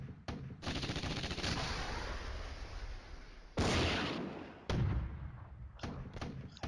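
Video game gunfire in a Cold War battle scenario, aimed at troops on a bridge, with loud, dense bursts of automatic shooting and heavy thuds coming in long sustained volleys.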